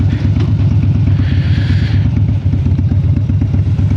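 Motorcycle cruising along a UK countryside road early on a Sunday morning, a steady close engine drone with rumbling wind noise, continuous throughout with no talking.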